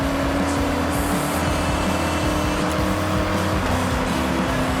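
A Jimmy in the racing game Forza Horizon 6 drones steadily and loudly for about five seconds, with an engine hum that holds constant and has no talk over it.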